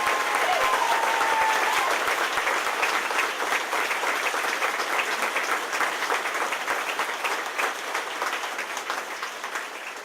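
A crowd applauds Governor Andrew Cuomo after his introduction: a full, steady round of clapping that tapers slowly toward the end.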